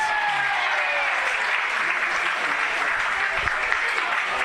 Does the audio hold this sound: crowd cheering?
yes